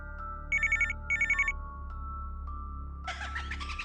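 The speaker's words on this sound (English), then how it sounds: "Oh, the phone." Phone ringing in the horror game Death Scene: two short bursts of a bright electronic trill, each a rapid pulsing ring, followed by a louder clattering jumble near the end over a low steady hum.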